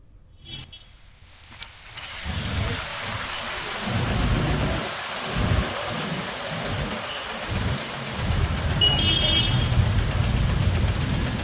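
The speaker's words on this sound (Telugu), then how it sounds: "ఉరుములు, మెరుపులతో పాటు ఈదురుగాలులతో కూడిన వాన కురుస్తోంది." Heavy rain falls steadily during a thunderstorm with gusty winds in Hyderabad, a dense continuous wash of rainfall with low rumbling surges building toward the end, no voices present.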